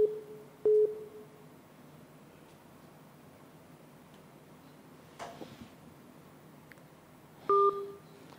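A telephone line after a dropped call gives a couple of short, steady low beeps several seconds apart over a faint hiss of background noise.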